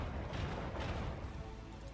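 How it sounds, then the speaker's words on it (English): Macro cannon volley from a ship in the video game Rogue Trader, heard as a dense, low booming rumble that is fairly faint and sustained rather than sharp individual shots. "Macro cannon, volley."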